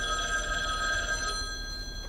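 A landline telephone rings with a steady electronic bell tone, close and clear, sustained throughout with a slight dip near the end, no voices.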